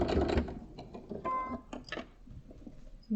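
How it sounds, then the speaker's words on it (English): Sewing machine stitching through bulky layers of fabric and wadding for a food mixer cover, a quiet rapid mechanical ticking and whirring in short uneven bursts. "just sewing this in now"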